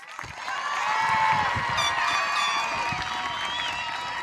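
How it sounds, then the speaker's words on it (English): Graduation audience at a Montgomery High School ceremony applauding and cheering for graduating students, a sustained wash of clapping with whoops and shouts rising early and holding steady, moderately loud and filling the hall. "Let's give them a round of applause"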